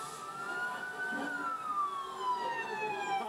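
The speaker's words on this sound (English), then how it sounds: "You hear the police sirens." Police sirens wail with slowly falling and rising tones, somewhat distant, over a low background rumble of a busy outdoor scene outside the Capitol during protests.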